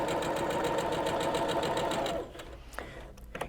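Sewing machine stitching a quarter-inch seam across a quilt block, running steadily and loud for about two seconds, then stopping, with a few faint handling clicks afterward.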